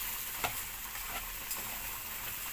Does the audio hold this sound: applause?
no